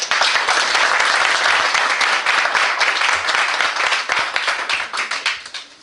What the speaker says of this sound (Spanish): pues para lo cual le damos un aplauso